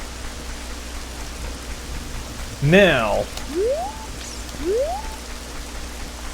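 Steady hiss of rain in The Legend of Zelda: Ocarina of Time, a continuous wash beneath a short spoken word and a few rising, chirping game effects.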